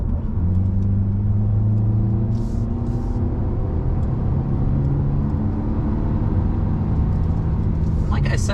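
A 2023 Kia Niro Hybrid with front-wheel drive cruises a twisty California country road, its engine and road noise forming a steady low drone with slight pitch shifts under talk inside the cabin.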